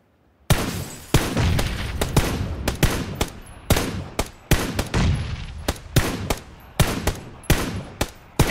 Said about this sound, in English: Suppressing fire, please.